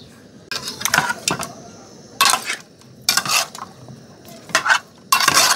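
Raw chicken with salt and turmeric stirred in a metal pot with a spoon, repeated scraping, clattering bursts separated by short pauses, close and crisp.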